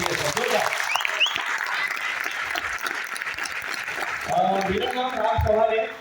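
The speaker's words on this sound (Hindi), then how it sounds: "सबसे पहले आए हुए सभी नए लोग जितने भी फर्स्ट टाइम आए उनके लिए एक बार जोरदार ताली तो बजती है।" Loud applause from a seminar audience greeting first-time attendees, a dense wash of clapping filling the room, with cheering voices and shouts rising over it toward the end.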